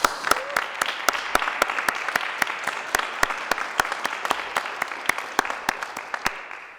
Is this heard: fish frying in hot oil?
no